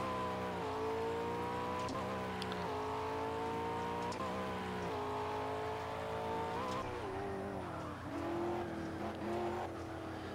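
Racing car engine from Project Cars, played on Xbox One with a controller, droning steadily through a lap, pitch climbing with each gear and dropping at shifts, with faint tire squeal; no talking.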